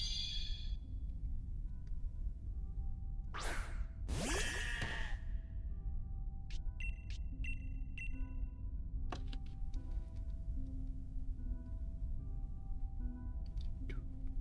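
A sheep Pokémon in Pokémon Sword and Shield gives two loud, wavering bleats close together, over steady game background music with occasional chimes and effects.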